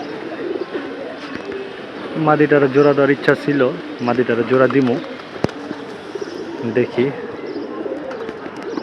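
Pigeons coo softly in warm sunshine, their low repeated calls surrounded by steady background hiss while someone talks over them at close range.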